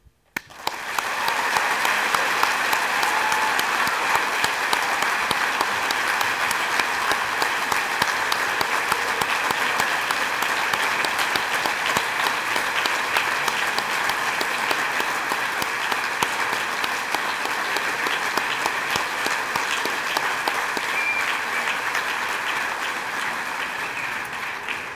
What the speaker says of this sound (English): Please join me in honoring all of our veterans with the applause they deserve for their services and their sacrifices.